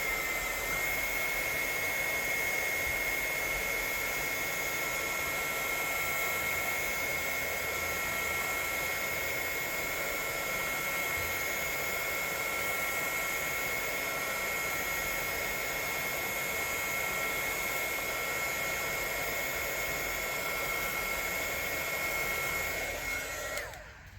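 A hair dryer blows steadily on a mixed media craft tag, a loud, even whir that runs unbroken for about twenty-four seconds before cutting off at the very end.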